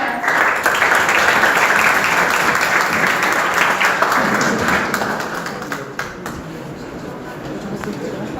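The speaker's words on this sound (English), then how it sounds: "A huge round of applause for sir." An audience applauds a chief guest at a hackathon gathering, a loud sustained round of clapping that slowly thins and fades toward the end.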